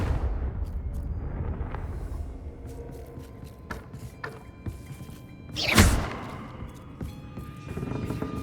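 A Confringo blasting spell fired in Hogwarts Legacy gives a single loud whooshing burst near the middle, set against quieter game ambience and scattered thumps.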